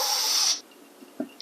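A brief loud hiss of Equate shaving foam spraying from a can, cutting off after half a second, followed by a few faint soft clicks and rustles.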